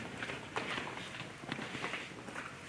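Footsteps in a room during a ghost hunt, faint, irregular soft steps and thuds sounding some distance away against a quiet background.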